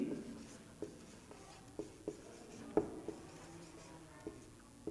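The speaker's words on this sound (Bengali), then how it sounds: "আমি লিখে দিচ্ছি" Pen or chalk writing by hand during an online Bengali class, a series of soft scratchy taps and strokes spaced irregularly, faint and close.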